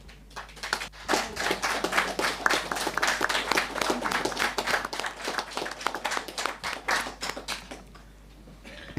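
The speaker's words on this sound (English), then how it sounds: "well deserving applause there for our Executive Mayor" Crisp, steady clapping from attendees at a municipal council meeting, building quickly to a lively peak and holding before tapering off near the end.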